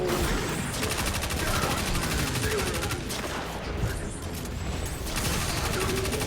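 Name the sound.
shotgun firing slugs in Destiny 2 video game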